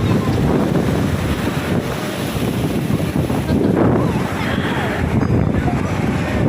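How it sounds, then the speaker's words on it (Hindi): Sea waves break and wash steadily on Digha beach, a loud continuous roar with heavy wind buffeting the microphone throughout. "ये बड़ी लहर आई।"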